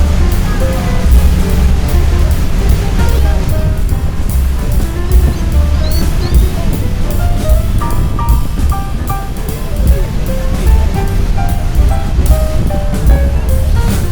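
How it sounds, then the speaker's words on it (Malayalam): Loud, constant roar of rushing water at Rhine Falls, heard from a boat close to the falls, broad and unbroken, with a faint tonal hum underneath. "ഭയങ്കര ഒഴുക്കും അവിടെ പിടിച്ചു നിൽക്കാൻ പറ്റിയില്ലാത്ത പോലെ നമ്മുടെ ബോട്ടിനെ വെള്ളം തള്ളി മാറ്റുകയാണ്"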